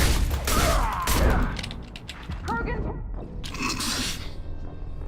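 Video game gunfire in Mass Effect 2, rattling bursts and sharp mechanical impacts mixed with thuds, fairly loud, with a voice speaking over part of it.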